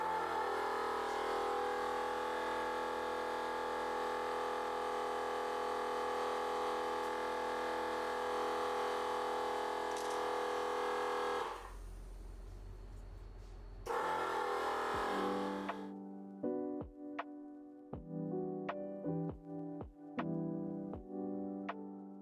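Wolfbox HyperFlow 60D air compressor running steadily to inflate a 37-inch off-road tire, a loud continuous motor drone that cuts off briefly and then resumes with sharp clicks and rattles near the end.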